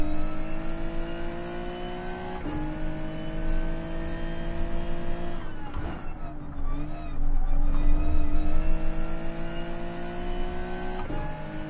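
Engines drone and rev in a Gran Turismo Sport race at Brands Hatch with a Hyundai Genesis, in a loud, steady buzz. Gear shifts break it up briefly, and the pitch wavers and climbs during a spin-and-contact moment in the middle.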